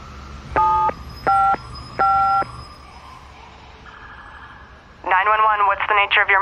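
Telephone keypad tones dial 911: three steady two-tone beeps about half a second apart, followed by a ringing or warbling tone and then a louder burst of electronic trilling, heard close with no voices.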